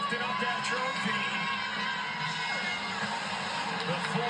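Arena crowd cheering at a women's college basketball championship trophy celebration, South Carolina Gamecocks against Texas Longhorns, a steady roar of whoops and yells with a voice speaking over it.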